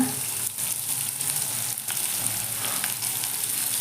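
Onion fries in a hot pan with cloves, cardamom, cinnamon and cumin for paneer bhurji, giving a steady, dense, close sizzle with faint stirring throughout.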